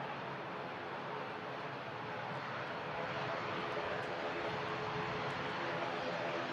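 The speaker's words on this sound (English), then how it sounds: "Aer Lingus ATR 72 coming in from Dublin" An Aer Lingus ATR 72 turboprop airliner arriving from Dublin at Manchester Airport produces a steady, broad roar of engine noise, constant and fairly loud throughout, with no speech.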